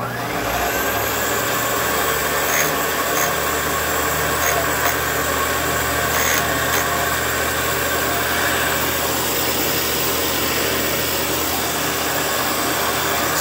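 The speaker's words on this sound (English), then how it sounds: "we've got the first tappet chucked up here. Now we can go ahead and do a little bit of grinding." A valve tappet from a Fordson E27N tractor being ground on a grinder, a steady, continuous whine with a constant machine hum throughout, fairly loud, with faint intermittent higher tones and no talking.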